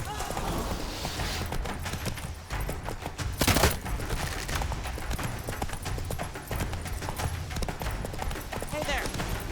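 Roach, a horse in The Witcher 3, gallops with steady clip-clop hoofbeats under continuous in-game voices and battle noise, with a sharp burst near the middle.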